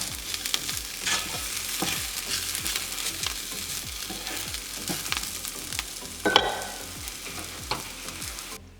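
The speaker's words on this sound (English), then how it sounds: "To finish it off, add salt and give it a final stir." Sri Lankan chicken curry cooking in a pot as it gets a final stir after salt goes in: rhythmic scraping strokes over a low bubbling sizzle, one sharper clatter partway through, no voices.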